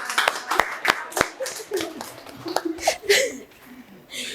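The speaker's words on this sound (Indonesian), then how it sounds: "Tepuk tangan dong." A few people clap briefly and unevenly at a cultural planning meeting, with light laughter and talk mixed in.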